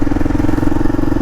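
A Kawasaki KLR 650 motorcycle engine drones steadily and loudly nearby, a continuous low throb with no pauses or voices.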